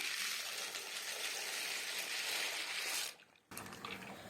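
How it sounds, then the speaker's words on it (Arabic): Pasta goes into a pot of boiling salted water, a soft bubbling, watery rush that dips briefly near the end and then resumes, faint and close, with no talk. "ميه المكرونه هنا جهزت معايا، انزل بالمكرونه."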